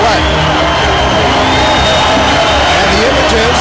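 A near-capacity fight crowd at the Molson Center boxing arena roars with sustained cheering and whoops, dense and loud throughout, with a commentator's voice running over it.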